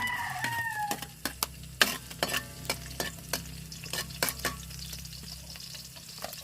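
Garlic frying in a little oil, a low steady sizzle broken by a quick run of sharp spatula scrapes and taps against the pan, irregular and close, with a faint rooster crow in the background at the start.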